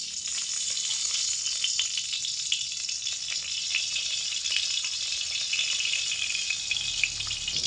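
Four teaspoons of ghee heat in a kadai while laddoos are being made, giving a steady, close sizzle and crackle of frying that holds evenly throughout, with no voices.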